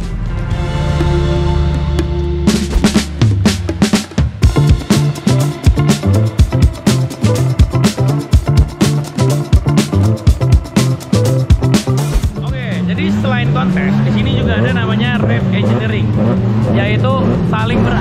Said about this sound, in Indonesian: geber-geber mobil sampai benar-benar berisik